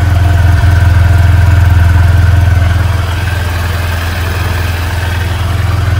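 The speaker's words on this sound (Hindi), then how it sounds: "मैं आपको सुना देता हूँ इसके इंजन और एग्जॉस्ट के साउंड को" A 2023 Honda CB Shine 125 motorcycle engine idles loudly and steadily up close, its exhaust giving a deep, even throb throughout.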